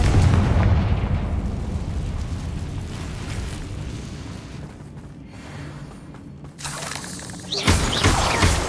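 A fiery blast spell from a Harry Potter video game erupts as a heavy roaring explosion, rumbling and crackling for several seconds before fading, then a second burst flares up near the end.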